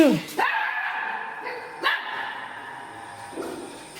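A thin, malnourished dog barks and yelps in a few short, sharp bursts, fairly close, with people talking around it.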